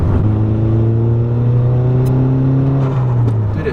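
A modified Volkswagen GTI MK6 accelerates hard from inside the cabin, its engine droning loudly and climbing steadily in pitch with a brief shift dip near the end, no talking over it.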